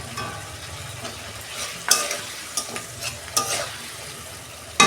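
Potatoes are stirred into a spice paste already fried in a wok for an okra and potato fish curry. A low sizzle runs under irregular spatula scrapes and clinks, with a sharper knock near the middle and another at the end.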